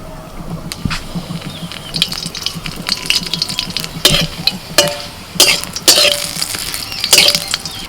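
Bay leaf and five-spice seeds tempering in hot oil for a pumpkin-leaf greens dish, a steady close crackle with sharper pops and spits bursting out over the sizzle, some clinks of a utensil mixed in.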